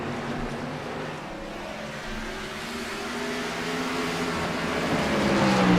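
Race cars circling Richmond's short oval in an iRacing sim race, a steady dense engine roar that builds slightly in loudness, several cars droning together with no talk.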